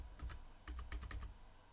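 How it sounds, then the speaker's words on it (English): Keystrokes on a computer keyboard, a short burst of about eight light clicks in quick irregular rhythm over a low background hum, close and fairly quiet, no talking. "I'm going to type loading circle"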